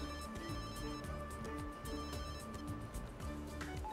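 Telephone ringing inside The Sims 3 game, a repeating electronic ring pattern sounding continuously and steadily over layered game music, with no talking.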